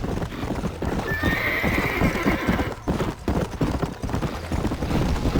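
Horse galloping in the video game Red Dead Redemption, a steady rapid clip-clop of hooves with occasional whinnies, loud and continuous throughout.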